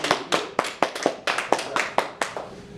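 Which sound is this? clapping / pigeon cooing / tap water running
clapping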